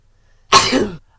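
A single sharp, explosive sneeze bursts out close by, lasting about half a second, with silence before and after.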